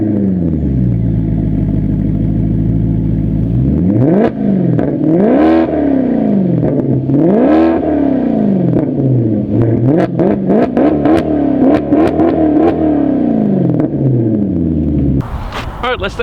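A 2015 Maserati GranTurismo Sport Convertible, rear-wheel drive with a six-speed ZF transmission, idles with a loud low rumble, then revs up and down in repeated throaty swells, heard close and sustained.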